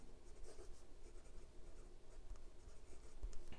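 Leonardo Momento Zero Grande fountain pen nib writing with turquoise ink on thin Tomoe River paper, a steady close scratchy scribble running continuously without pause.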